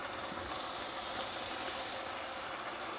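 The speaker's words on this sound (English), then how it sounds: "we'll get the bacon in now. Just starting to bubble" Streaky bacon frying in a hot pan, a dense, continuous sizzle and crackle heard up close with a steady level and no voices.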